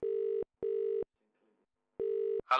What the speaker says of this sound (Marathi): अरे फोन वाजतोय.